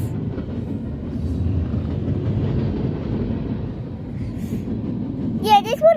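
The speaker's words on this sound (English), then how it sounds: "this one has lots of different train cars." A mixed freight train rolls past nearby with a steady low rumble and rattle of its cars, and people talk over it toward the end.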